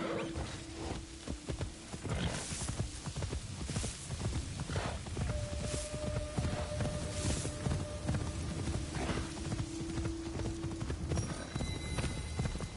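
Horse hooves clip-clop steadily while riding through the Assassin's Creed Shadows game world, layered with game ambience and occasional tonal music cues, with no talk over it.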